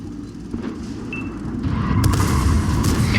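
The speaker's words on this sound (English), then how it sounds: "Enemy artillery." An enemy artillery shell lands in the World of Tanks game with a deep, rolling boom that swells over a dense rumbling battlefield background, loud and close.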